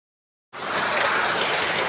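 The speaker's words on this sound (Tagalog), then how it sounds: "konting ulan lang dito sa amin" Rain and rushing water during flooding, seen from a second floor, burst in after a moment of silence, a loud, steady, broadband hiss and gush that holds without talk.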